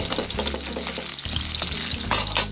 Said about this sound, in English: I'm going to add these chili peppers, and I'm going to let these get nice and brown in this oil